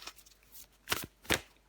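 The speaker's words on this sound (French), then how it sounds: "Allez, je prends encore une carte pour vous." Tarot cards are shuffled and drawn in a few quick, soft riffles and slaps, close and quiet, with two sharper flicks near the end and no talk.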